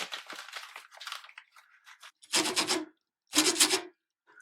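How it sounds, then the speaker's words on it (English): A small piece of paper is crinkled and rubbed close up, first in soft scattered rustles, then in two loud bursts of crisp crumpling separated by a short silence. "Make a really cool sound, just paper."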